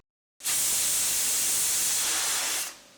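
A single sustained blast of hissing steam from a pressure cooker whistle on a medium gas flame, cooking dal and rice, loud and close, starting abruptly and holding steady for about two seconds before tapering off.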